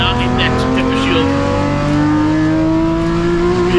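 BMW M Performance Parts race cars in a Class D circuit race roar loudly onto the back straight, engines revving steadily with rising pitch, a commentator talking over the continuous close engine noise.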